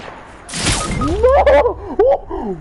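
A single loud, sharp sniper rifle shot cracks out in a video game and decays quickly. Excited voices and exclamations follow right after it.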